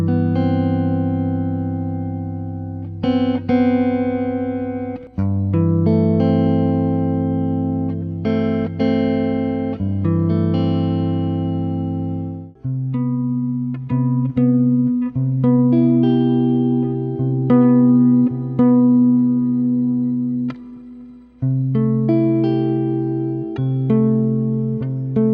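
Electric guitar chords, including a major sixth chord, strummed and left ringing one after another in slow succession, clean and close with reverb, no talk.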